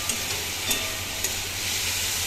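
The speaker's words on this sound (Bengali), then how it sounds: "এবার শুধু হবে ভাজা, ফুল ফ্লেমে ভাজা হবে" Taro flowers frying over a full flame, a constant hissing sizzle with faint popping spits throughout.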